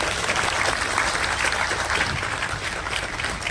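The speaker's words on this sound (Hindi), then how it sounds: "अगर आप लोगों को सच में ये कविता पसंद आई तो प्लीज एक बार ताली बजा दीजिएगा" An audience applauds steadily after a poem recital at a literature festival, a dense, even wash of clapping that holds for the whole stretch with no talk over it.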